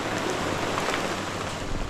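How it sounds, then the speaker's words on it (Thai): Steady rain pours down on a forest hiking trail in Mae Ramat, Tak, Thailand, in a dense, even hiss, close and constant with no voices. "เพราะว่าฝนตกลงมาอีกแล้ว"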